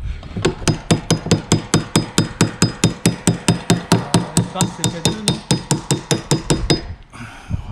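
Rapid, steady hammering with a bright metallic ring, about two dozen evenly spaced blows, close by, then stopping; a brief voice is heard. Hammering while fitting wooden shutters.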